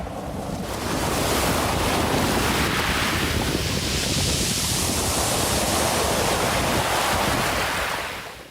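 Ocean waves surge in a broad, heavy wash, swelling in quickly and holding a loud continuous roar mixed with wind buffeting before fading at the end.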